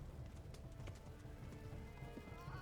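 Hoofbeats of a tired horse galloping in the medieval video game Kingdom Come: Deliverance, a steady clip-clop rhythm heard close and continuous over a dense game soundscape.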